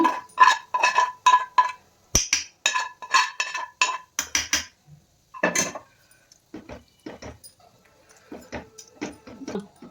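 A spoon clanks rhythmically against a pan as tempering is stirred into cooked fenugreek, spinach and amaranth greens: a quick, even run of close metallic knocks, then sparser, softer taps.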